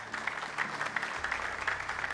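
A church congregation at a pastor's sermon claps steadily together, a dense continuous patter of many hands at moderate volume with no voices over it.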